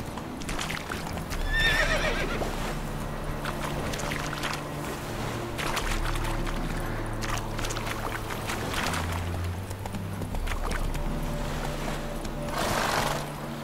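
A horse in The Witcher 3 video game neighs loudly with a high whinny near the start, while steady galloping hooves carry on throughout, with a second burst of noise near the end.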